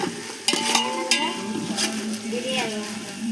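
A spoon scrapes and stirs biryani ingredients in a hot pot amid a soft sizzle, with a few clinks against the metal and a voice murmuring in the background.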